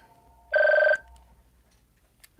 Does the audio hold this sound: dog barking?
no